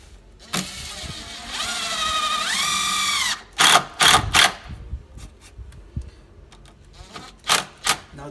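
A power drill driving a screw through the thick part of an exterior door jamb into a cleat, one sustained motor whir rising in pitch for a couple of seconds, followed by short sharp bursts and clicks of handling.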